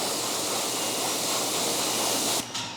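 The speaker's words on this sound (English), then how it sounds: "If you want to rinse it off, if you have really dirty rims" Water rinses dirty car wheel rims during a detail, a loud, steady spraying hiss that cuts off abruptly near the end, close and without talk.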